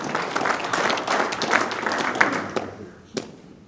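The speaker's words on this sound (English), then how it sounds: "Let's give our lovely Vanna White a round of applause" A presentation audience at an agriculture talk gives a round of applause for a helper, dense crowd clapping that builds, holds, then tapers off with a few last scattered claps.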